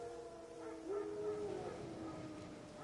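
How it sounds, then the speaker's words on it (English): Wild dogs in The Witcher 3 give a rising, wavering howl over a steady outdoor ambience, moderately close with a faint whimpering edge. "No. Wild dogs. Yes. More dangerous than wolves."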